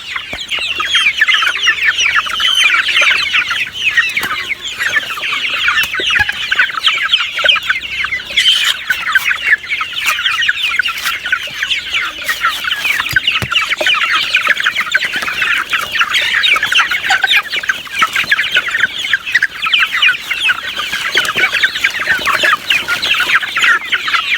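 Farm chickens cluck steadily and close up while being fed, a dense, busy chorus of overlapping clucks that goes on without pause, with a brief louder squawk partway through.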